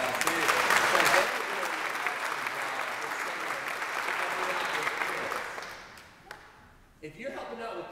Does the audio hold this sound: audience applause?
yes